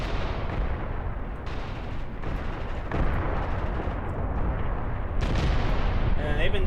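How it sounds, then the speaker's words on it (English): Katyusha rocket launches in the war game Graviteam Tactics, a dense rolling rumble of repeated booming blasts, loud and sustained, with a brief electronic warble near the end. "they've been launching these Katyushas, but they're not hitting anything"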